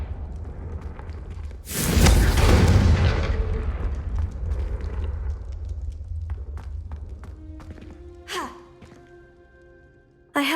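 A Confringo spell explosion in Hogwarts Legacy bursts loudly and close, then rumbles down over several seconds, followed by fainter magical crackles and a sharp hit at the end.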